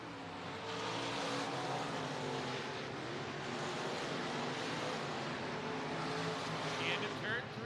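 Dirt track race cars roaring together at Boone Speedway in Boone, Iowa, a dense continuous engine drone under steady race commentary, with no break in the noise.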